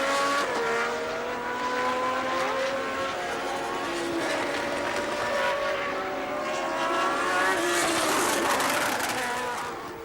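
A 1981 Formula One car on a fast lap at the Argentine Grand Prix, its high-revving engine roaring loud and close with rising and falling pitch through gear changes for the whole stretch, under a faint commentary voice.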